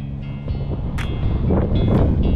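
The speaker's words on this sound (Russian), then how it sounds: "Блин, ветер такой." Steady blustery wind buffeting the microphone outdoors on the Salaca River, a low rumbling roar with gusts swelling toward the end.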